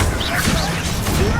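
A brief, loud fiery blast from the Confringo fire spell in the video game Hogwarts Legacy, a single burst over a rumbling game background with a voice speaking.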